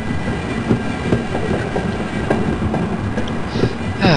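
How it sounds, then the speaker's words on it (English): Rattling tram ride in the video game Half-Life: a steady rolling rumble with rhythmic clickety-clack of wheels over rail joints and a few brief metallic squeals, continuous and fairly loud throughout. "I'd forgotten how boring these tram sections can be."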